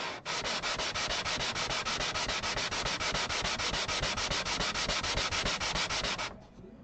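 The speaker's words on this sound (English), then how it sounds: "instead of having to run the sandpaper for as long as I am" Sandpaper rubs back and forth on an acoustic guitar bridge in fast, even strokes, close and continuous for about six seconds before it stops.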